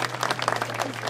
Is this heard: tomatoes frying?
no